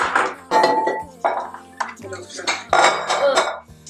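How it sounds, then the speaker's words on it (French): Eggs are beaten in a bowl, heard as a series of irregular, close, clinking strokes of metal against the dish, with what may be a voice faintly in the background. "Je vais battre les œufs ici."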